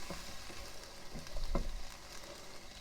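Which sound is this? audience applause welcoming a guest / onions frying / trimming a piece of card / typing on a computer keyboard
onions frying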